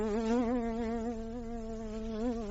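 A fly buzzes close by in a steady, droning hum that wavers slightly in pitch, heard alone and continuously throughout.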